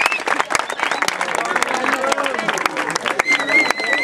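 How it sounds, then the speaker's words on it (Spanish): Crowd at a freestyle rap battle breaks into loud, dense applause and shouting, with sharp claps scattered through and voices calling over the noise. "¡Aplauso!"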